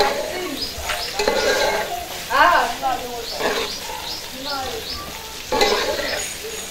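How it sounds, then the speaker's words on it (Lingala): Peppers, onions and celery softening in a pot while being stirred, a soft sizzle with scraping strokes, partly under a voice talking nearby. "poivron na biso na matungulu na biso totiaki na céleri ebandi kolemba"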